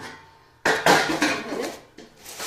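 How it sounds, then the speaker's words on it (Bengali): Freshly cooked stuffed pitha is tipped off a hot griddle onto a plate, giving a couple of sharp, close metallic clatters and scrapes of pan against plate, with nobody talking. "এখন আমি একটা প্লেটে ঢেলে নিচ্ছি"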